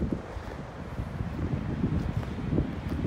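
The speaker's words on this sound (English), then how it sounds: "the problem is that wind when it comes through" Steady wind gusting across a beach in North Naples, Florida, a continuous low rumbling buffet on the microphone throughout, no voices.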